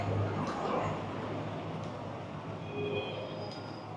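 Steady rumble and rattle of a train on the Laos–China railway, heard from inside a carriage, with continuous wheel noise and faint squeals throughout.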